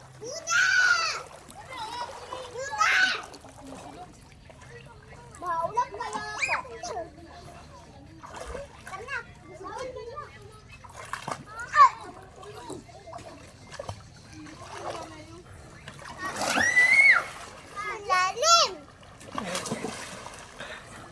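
Children splash about while bathing in the sea, with repeated bursts of splashing water mixed with their excited voices and chatter throughout.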